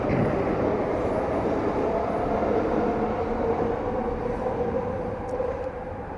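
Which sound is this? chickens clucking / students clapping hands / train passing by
train passing by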